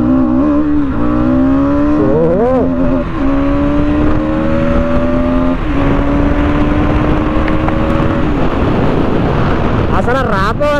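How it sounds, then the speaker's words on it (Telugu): A 2024 Bajaj Pulsar NS200 motorcycle accelerates hard, its exhaust note rising in repeated climbing sweeps through the gears under heavy wind buffeting. "ఎగ్జాస్ట్ నోట్ కూడా చాలా చాలా బాగుంది భయ్య"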